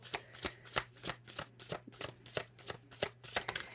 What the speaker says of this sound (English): I wanted you guys to be with me when I shuffled.